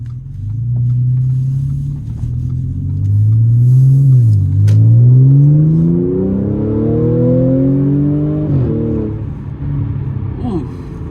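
Modified supercharged Audi S4 accelerating hard with a rising engine and supercharger whine that climbs through the revs, drops briefly at a gear change and climbs again, loud and close inside the car.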